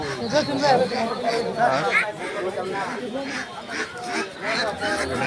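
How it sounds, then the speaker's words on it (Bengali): Ducks quack repeatedly amid loud, busy crowd chatter at a bustling open-air market. "এখানে সব সবই হাঁস"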